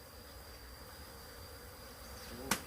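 Wild cavity-nesting honeybees swarming around a hive on a house roof give a steady, low buzzing hum throughout, with one brief sharp click near the end.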